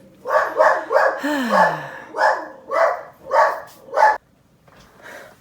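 A grumpy dog barks in a quick series of about eight sharp yaps with a brief whimpering whine among them, fairly close and loud, then falls quiet apart from a faint final sound.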